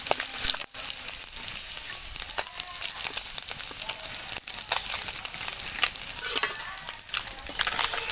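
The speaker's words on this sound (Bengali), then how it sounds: "এদিকে মাছগুলো আমার ভেজে নেওয়া হয়ে গিয়েছে, তো মাছগুলো তুলে দেবো" Magur fish frying in plenty of oil throws off a continuous crackling sizzle, with frequent stirring scrapes and sharp spatters throughout, close and steady.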